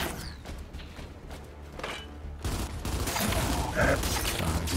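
Shotgun blasts in Gears 5, a few heavy booming shots among mechanical clanks and thuds, growing louder and denser toward the end.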